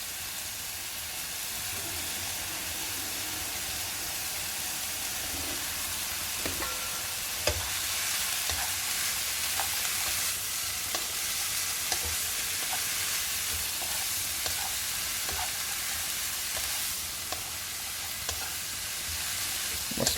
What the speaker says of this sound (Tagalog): Ngayon, i-stir fry na natin ang cabbage.